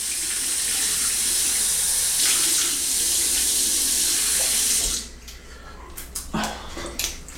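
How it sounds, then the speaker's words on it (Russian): Tap water runs steadily at close range while a man rinses his face after shaving with a straight razor, a loud continuous splashing stream that cuts off abruptly near the end, leaving faint bathroom clatter. "Сейчас смою лицо."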